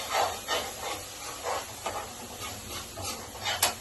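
Jackfruit curry masala sizzles in hot oil in a home kitchen, a loud close hiss and crackle that swells in short repeated bursts, with no talk.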